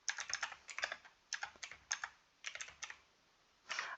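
Fingers tap quickly on a computer keyboard, bursts of crisp, close clicks with short pauses between words and a final heavier keystroke cluster.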